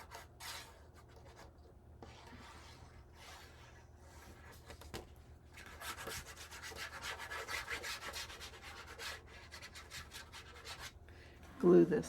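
Paper being burnished onto a glued page inside a 6x6 paper-pad mini album, a steady close rubbing and scraping that continues in repeated strokes, quiet and alone, with a brief louder knock at the end.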